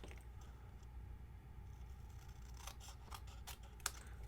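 Snips trim paper for a birthday card craft, making several quiet, crisp cuts in a quick cluster close by against a low background hum.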